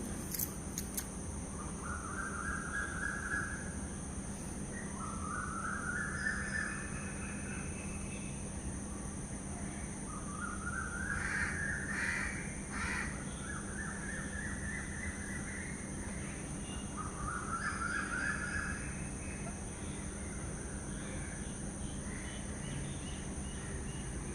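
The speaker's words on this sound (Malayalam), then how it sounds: "പുറത്ത് വന്ന് കിളികളുടെ ശബ്ദവും എല്ലാം കേട്ട്" Outdoors in the morning, birds call in a series of repeated, faint, distant phrases over a steady background hum, with no talking.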